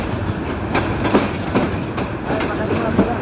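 The Mohanagar Express, hauled by a Hyundai 3000 series locomotive, enters Airport railway station with a loud, continuous rumble and rhythmic clickety-clack of wheels over rail joints about every half second.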